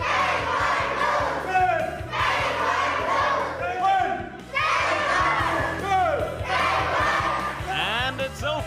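A taekwondo class shouts in unison with loud, repeated group battle cries in rhythmic bursts about every 1.5 seconds, filling a room over a low rumble.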